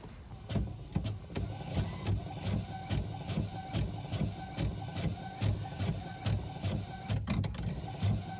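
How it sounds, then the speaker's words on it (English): A fast printer runs a pass through, with a rapid steady rhythm of mechanical clicks and whirring paper feed close by, no talking. "A speedy printer."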